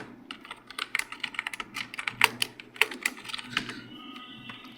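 Typing Urdu text into a spreadsheet on a computer keyboard, a quick irregular run of close, crisp key clicks with a few louder taps, heard alone without speech.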